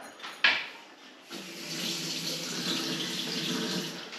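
Water runs from a kitchen tap into a brand-new sink, starting with a splash and settling into a steady, close hiss of flowing water.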